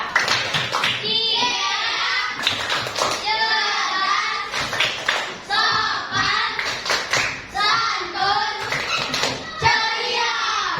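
Fifth-grade schoolchildren in a classroom perform a rhythmic group clap, bursts of clapping in set patterns alternating with chanted voices, loud and close, with short pauses between phrases.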